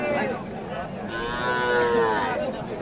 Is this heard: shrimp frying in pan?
no